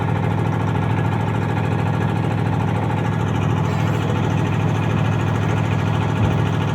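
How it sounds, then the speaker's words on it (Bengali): A river trawler boat's steady, droning engine rumbles continuously at close range, low and unbroken, with no voices over it. "আমাদের ট্রলার এখন ছেড়ে দেবে"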